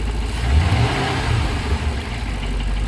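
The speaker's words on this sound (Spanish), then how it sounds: "Dale por favor un acelerón." A faulty Ford Mustang engine revs up under a blip of the throttle, a close, loud, rumbling rise and fall over a steady running engine.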